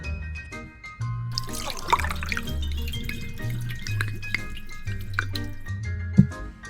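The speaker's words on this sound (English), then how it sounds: "I'll pour this bottle of cheap whiskey into that Crown Royal bottle" Cheap whiskey pours from one bottle into a Crown Royal bottle, a steady trickling liquid stream with small drips, close and moderately loud over a low steady hum in the room.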